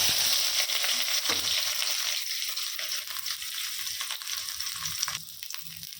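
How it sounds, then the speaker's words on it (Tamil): Chopped large onions sizzle and fry steadily in a hot kadai for chicken curry, a loud, continuous crackling hiss with occasional stirring scrapes close by. "இப்போது நறுக்கி வச்ச 4 பெரிய வெங்காயத்தை இதோடு சேர்த்திக்கலாம்."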